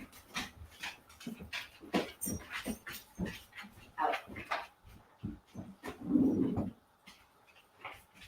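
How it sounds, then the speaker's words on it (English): Dogs in a room pant, whimper and let out a few short yips in a restless, uneven stream, fairly close, with one louder, rougher burst near the end. "I just have to take my dogs out of the room because they are making noise"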